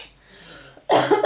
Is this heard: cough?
yes